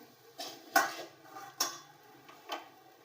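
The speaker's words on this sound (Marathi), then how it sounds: "आता गॅस बंद करून एका ताटात मी काढून घेते थंड होण्यासाठी" Cooked poha mixture is scraped from a pan onto a plate, giving four sharp metallic scrapes and clinks spaced under a second apart, close and moderately loud against a quiet kitchen.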